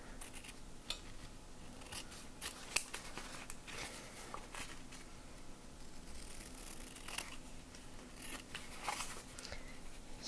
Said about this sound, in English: I'll cut the card a little because I'm cutting really close to the paper here.